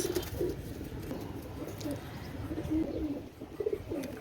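Royal Teddy pigeons cooing in a loft, several soft, low, repeated coos from nearby birds over a busy background murmur.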